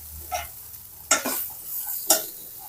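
A spatula stirs onion and fresh grated coconut frying in a pan, giving three distinct scraping strokes over a soft, low sizzle, close and fairly quiet.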